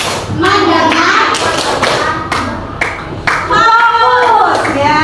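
Children in an Indonesian classroom perform a rhythmic clapping chant, sharp claps and thumps falling in regular bursts between chanted words, loud and close.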